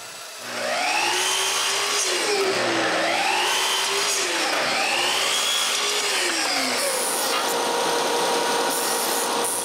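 A domino joiner cutting mortises into cedar: a loud, close power-tool whine that rises and falls in repeated plunges, with the motor running the whole time and no voices.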